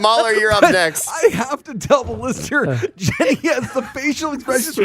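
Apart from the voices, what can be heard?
No everyday noise stands out behind the speech.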